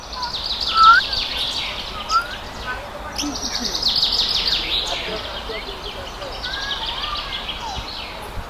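Several birds chirp and tweet in quick, high bursts at a safari park in Gazipur, Bangladesh, some near and some farther off, over a soft background hum.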